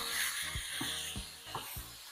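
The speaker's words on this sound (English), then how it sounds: "as you can hear it sizzling now, I'm going to go ahead and uh, start breaking the ground beef up" Ground beef sizzles in a hot pan with a steady high hiss of frying, broken by several soft, regular knocks as the meat is pushed and broken up, close by with no voice over it.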